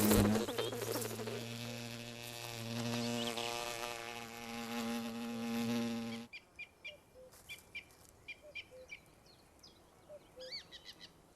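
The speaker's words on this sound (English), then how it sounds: "This young hornet queen is looking for a place to found a colony" A young hornet queen buzzing close by in a forest setting, a steady droning hum with a clear pitch that stops abruptly. Scattered faint chirps and clicks follow in the quiet.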